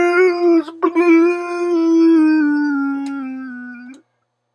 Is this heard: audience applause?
no